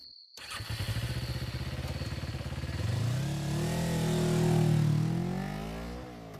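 A motorcycle starts and rides off, its engine droning steadily and then revving up through rising pitch sweeps as it accelerates, close and loud, with no voices.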